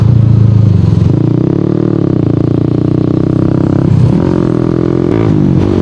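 A Honda Winner X 150 motorcycle is ridden with a loud, steady engine drone up close, its pitch dipping and rising as the rider shifts gears midway.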